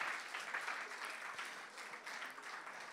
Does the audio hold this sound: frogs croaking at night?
no